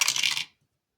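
Dice rattling and tumbling across a table during a board game, a quick burst of clicking and clattering that stops abruptly after half a second, close and alone.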